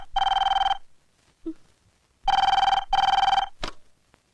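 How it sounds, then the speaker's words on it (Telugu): An old-style telephone bell rings in three bursts with pauses between, loud and close, indoors at home, followed by a brief click as the receiver is lifted. "వేళ పాడ లేకుండా ఈ ఫోన్ ఒకటి."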